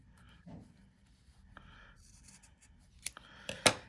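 Scissors snip through sock fabric while shaping bunny ears for a sock craft, giving a few quiet, short cuts that cluster near the end against a soft, near-silent background.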